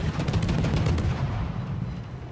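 A ship's gun salvo fired in the naval video game World of Warships, a rolling burst of heavy booms that blend into a rumbling roar and gradually fade over about two seconds, loud and without talking.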